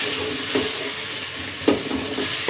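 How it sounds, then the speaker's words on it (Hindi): Tomatoes and chillies sizzle steadily in a hot pan while a spoon stirs them, with a few louder scraping strokes against the pan breaking through the constant frying hiss. "1 से 2 मिनट इसको भी पकाएंगे, टमाटर और मिर्ची को"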